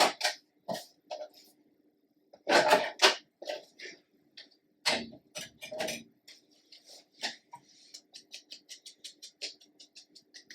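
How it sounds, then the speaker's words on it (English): A paper trimmer cuts pieces of paper for a handmade waterfall journal, making a string of short squeaky, scraping strokes: irregular at first, then a quicker, even run of small squeaks near the end. The sound is close and there is no talking. "Excuse the noise of the trimmer"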